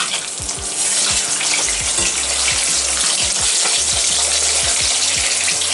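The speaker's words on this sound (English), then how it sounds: "and we are frying with refined oil" Marinated katla fish fries in refined oil with a loud, steady crackling sizzle that fills the whole stretch, with faint clinks from stirring and no talk.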